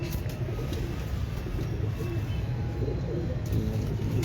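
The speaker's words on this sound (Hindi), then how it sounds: "ले जी एक और कबूतर" Low, soft cooing of breeder pigeons on a rooftop repeats in a murmuring rhythm, fairly quiet against a faint background hum.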